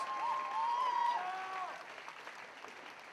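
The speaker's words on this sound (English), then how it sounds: "let's have a huge round of applause for these Muay Thai warriors" Applause for Muay Thai fighters at the end of an MTFL fight night, a sustained crowd clapping that gradually fades, with a faint tonal sound early on.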